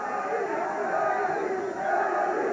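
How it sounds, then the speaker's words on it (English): At a heavyweight boxing fight, a roaring crowd yells and chants a boxer's name, loud and sustained, with a commentator talking over it. "the crowd starts yelling Eddie again"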